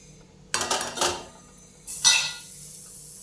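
Steel dishes and plates clink and clatter in a home kitchen as a plate of cooked vegetable curry and bhakri is served, with two quick bursts of handling and a brighter clink shortly after, close and fairly loud, no talking.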